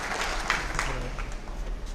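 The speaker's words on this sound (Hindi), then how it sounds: "तालियां बजाकर जरा प्रधानमंत्री" Steady, dense applause from a crowd at a government beneficiaries' event in Nandurbar, a continuous wash of clapping at moderate level with no distinct individual claps standing out.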